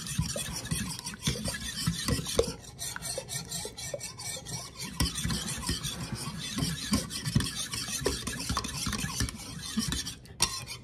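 A sprinkled ingredient, likely yeast, is stirred into sourdough in a bowl with continuous close scraping and rubbing strokes, busy and steady throughout, without talk.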